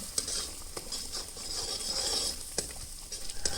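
Malai kofta curry mixture stirred in a pan at home, with soft scraping and sizzling, a few sharp clinks of the spoon against the pan scattered through.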